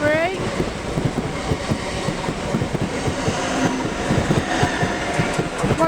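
A train rolls through Sevenoaks station, loud and close, with rhythmic wheel clatter over rail joints, a brief rising whine at the start and talk over it.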